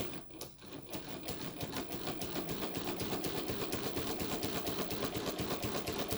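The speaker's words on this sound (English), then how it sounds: "this is sewing with 3 threads" A Mannan three-thread chain stitch machine sews a leaf design on printed water-soluble material, running in a fast, even mechanical patter that stays close and continuous for several seconds without speech.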